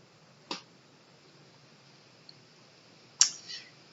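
Two sharp mouse clicks on a computer, one early and a second double-edged click near the end, with a faint tick between and quiet room background otherwise.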